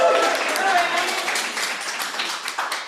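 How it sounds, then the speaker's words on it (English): An audience claps steadily at a live podcast taping, a dense, moderately loud wash of applause that slowly thins toward the end, with no speech over it. "Figured that would get a good applause."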